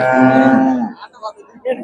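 A cow gives one loud, close moo lasting under a second at the Karungalpalayam cattle market in Erode, Tamil Nadu, followed by faint rustling and small noises.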